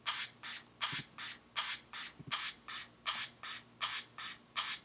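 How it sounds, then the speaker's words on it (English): A broom sweeps in even, brisk strokes, about a dozen soft swishing brushes in a regular back-and-forth rhythm, close and fairly quiet, with a faint low thump on a couple of strokes. "I sweeped with a broom because we were trying to clean up our place a little bit, and I got these sounds."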